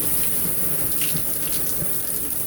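Shower water runs steadily while a dirty vacuum cleaner filter is rinsed, a close, even hissing spray with small splashes and no pauses.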